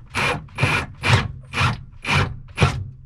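Screws driven by hand to mount an onboard ProMariner battery charger in a boat, six even rasping turns about half a second apart, close and clear with no talking.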